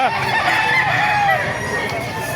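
Roosters crow repeatedly at a busy poultry market in Baliuag, Bulacan, with clucking fowl and crowd chatter mixed in throughout.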